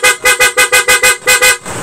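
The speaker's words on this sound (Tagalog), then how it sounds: "Tapos loud horn naman tayo." PIAA horn fitted to a Honda ADV160 motor scooter, honked in a rapid train of about nine loud, bright, blaring toots close by, with no talk over it.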